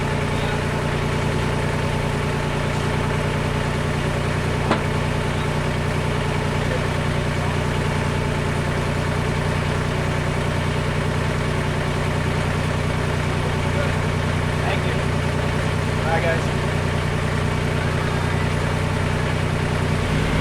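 A steady, low engine drone idles continuously throughout, with a constant rumble and faint mechanical clicks, no voices.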